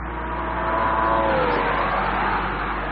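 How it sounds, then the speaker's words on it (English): A 2013 Porsche Boxster sports car engine revs hard toward its red line and climbs in pitch, loud and close, a smooth rising roar with no voices. "Both engines sound thrilling as they rev towards their red lines."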